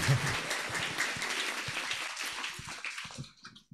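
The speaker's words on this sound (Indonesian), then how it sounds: "Tepuk tangan dong." An audience at an Islamic boarding school in Sumedang, Indonesia, applauds during a COVID-19 new normal outreach session, with dense, steady clapping that thins out and fades toward the end.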